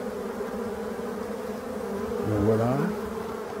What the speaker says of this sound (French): c'est incroyable la quantité d'abeilles qui rentrent et qui sortent